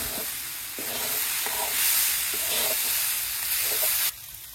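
A pan of vegetables sizzles with a continuous loud hiss in a Bangladeshi village kitchen, broken by several rhythmic stirring scrapes, before the sound abruptly drops near the end.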